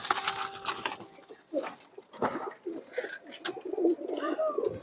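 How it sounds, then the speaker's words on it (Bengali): A female pigeon coos in a series of low, soft, rolling calls close by, with brief rustles between phrases. "এই যে এটা একটা মাদি কবুতর"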